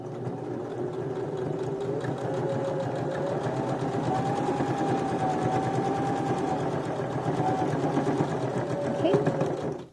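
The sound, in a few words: sewing machine top stitching a sleeve placket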